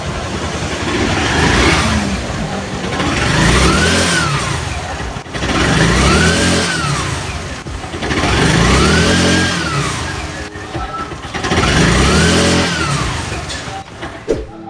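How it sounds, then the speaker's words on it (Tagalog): A Piaggio Ape City 200 HCT three-wheeler engine runs close by, revved repeatedly in a steady cycle of rising whines and falling idle, about five rev swells, with no talking. "this is a sound check of a Piaggio HCT"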